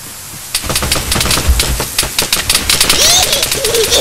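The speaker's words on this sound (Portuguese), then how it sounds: "O nego me atirando, mano." Gunfire in the military shooter game Arma 3 cracks at the player in a rapid, dense burst of sharp shots, loud and close, keeping up steadily for several seconds.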